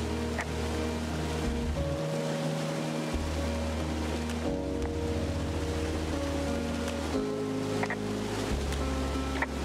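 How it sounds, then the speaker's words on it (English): A waterfall in the video game Firewatch roars as a steady, loud broadband wash of falling water, with shifting low tonal music or ambience layered underneath and no voices. "It's a really nice waterfall down here."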